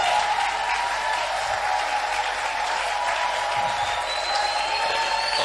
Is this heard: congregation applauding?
yes